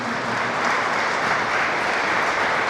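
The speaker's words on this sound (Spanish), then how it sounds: "Vamos a darle un fuerte aplauso a estos jóvenes en este día de su matrimonio" Wedding guests applauding the newlyweds during a church ceremony in San Agustín Oapan, Guerrero: steady, full applause from a crowd, sustained and even throughout.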